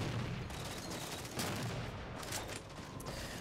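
Rapid gunfire in a Halo 4 multiplayer match of Regicide on the map Complex, a dense continuous burst of overlapping shots crackling near and loud throughout.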